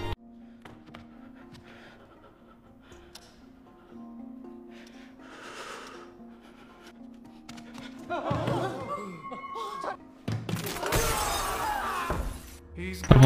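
A glass panel on the Squid Game glass-stepping bridge shatters as a player falls. A loud crash of breaking glass bursts late, after quieter tense moments with voices and laughter.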